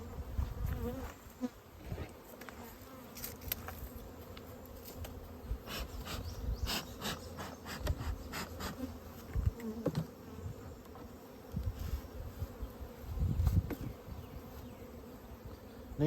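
Honey bees buzz steadily around mini mating nucs being stocked with nurse bees, a dense close hum with occasional louder fly-by swells and faint handling noises.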